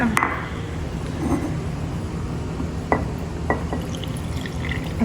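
A drink is poured into a glass in a steady trickle, close and moderate in level, with a few light clinks and drips partway through and no talking.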